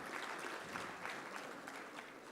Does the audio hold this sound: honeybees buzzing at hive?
no